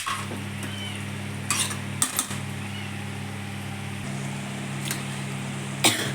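Ground masala paste is stirred lightly into a chicken pepper curry, with a few soft scrapes and clinks of a spoon against the pan over a steady low hum, probably a fan, that runs throughout.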